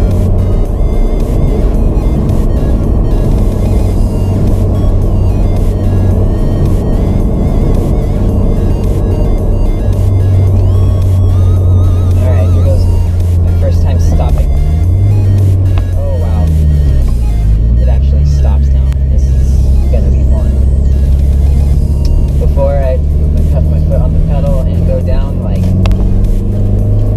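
Car driving on the road after a new brake install, a steady loud engine and road rumble that continues throughout, with shifting tones as it slows, under someone talking.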